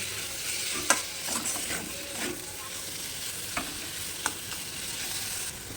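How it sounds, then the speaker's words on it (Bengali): Pangas fish frying in a pan with ginger and garlic sizzles steadily and softly, broken by a few sharp clacks of a spatula stirring against the pan, close by and without speech. "এবার আমি বেছে রাখা মাছ দিয়ে দেবো মাছ দিয়ে একটু মাছটাকে ভেজে নেব"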